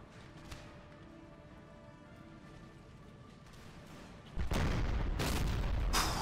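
Canister shot from cannons in the Empire: Total War battle game erupts as a loud, harsh burst of overlapping blasts near the end. It follows several seconds of distant rumbling battle ambience, with no talking over it.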